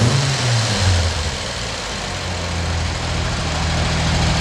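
A triple-black 1965 Jaguar S1 Roadster sits at a steady idle, its engine giving a smooth, even, low rumble close by with no talk over it.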